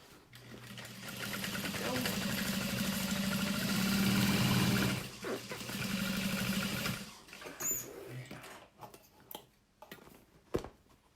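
A sewing machine bastes a saddle bag lining a fraction of an inch from the top edge, its fast mechanical stitching running steadily for several seconds, pausing, then resuming briefly before scattered handling clicks and taps.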